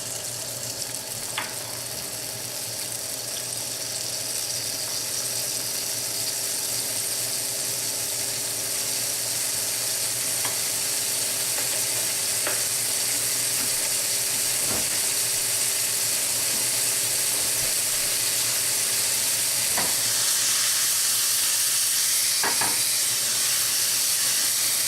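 Cherries frying in olive oil in a hot pan for cherries jubilee make a steady, loud broadband sizzle and hiss throughout, with a few faint clicks and taps from the pan along the way.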